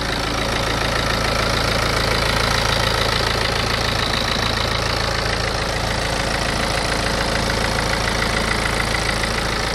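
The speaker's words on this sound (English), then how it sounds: "Very sweet sounding engine there." A car engine idling with the bonnet open at a used car dealership, a steady, close mechanical hum and rumble with even ticking, running alone without any talk.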